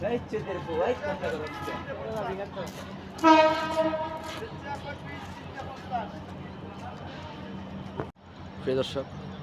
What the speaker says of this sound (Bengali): চলে আসছে আমার কাছে যে ট্রেন